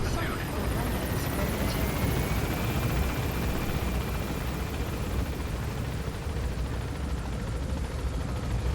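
A helicopter takes off in Metal Gear Solid V, a steady, dense rotor and engine roar that holds level and loud throughout, with a faint whine rising above it.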